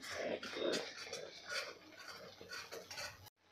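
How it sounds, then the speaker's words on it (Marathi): Pea masala gravy with cashews being stirred and sautéed in a pan, a steady run of spoon scrapes and utensil clatter against the metal with a soft sizzle beneath, close and fairly loud, stopping abruptly near the end. "आता हे आपण तळापासून ढवळत परतत राहायचं आहे, कारण यामध्ये आपण काजू घातलेले आहे, त्यामुळे खाली लागू शकतं।"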